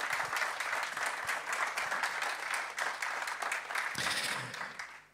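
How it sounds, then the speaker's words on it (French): An audience applauds continuously at a moderate distance, a dense wash of many hands clapping that stays even for several seconds before fading out. "Alors encore une fois, on peut les applaudir."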